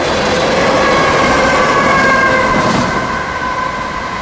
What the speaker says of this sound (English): crisp image of a moving train.